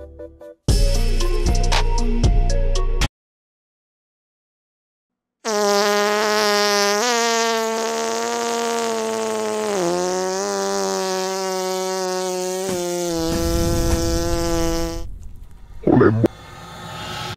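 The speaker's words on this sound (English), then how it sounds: "I think that fart sound being that long made that so much better." A long, drawn-out fart sound effect with a wavering, buzzy tone runs for about ten seconds. It follows a short burst of other noise and a moment of silence, and some brief clatter comes at the end.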